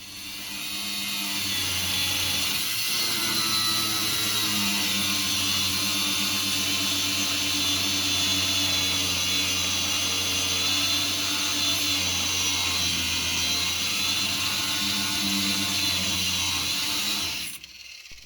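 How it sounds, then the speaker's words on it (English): Power tool cutting through a bolt during a Ford 8.8 differential install, a loud, steady whining cut with a low motor drone running nearly unbroken for about seventeen seconds before stopping abruptly. "Cut the bolt."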